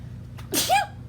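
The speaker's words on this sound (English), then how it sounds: "I'm getting ready to sneeze." A single sharp sneeze bursts out close by, a quick breathy intake followed by an explosive burst, over a low steady background hum.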